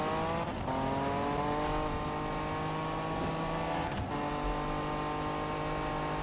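A 1971 Nissan Skyline racing car in the 2015 Need for Speed video game, its engine revving in a sustained, rising howl with a shift near the middle and no talking over it.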